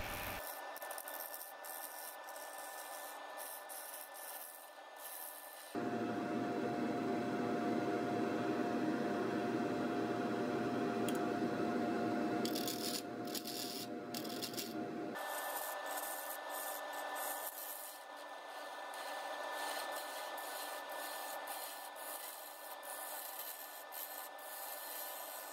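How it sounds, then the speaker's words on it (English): A bowl gouge cuts a wooden bowl on a lathe turning at about 500 RPM, a steady close hissing scrape that shifts in tone and loudness across several passes, with no talking. "Getting up close here, still with the bowl gouge,"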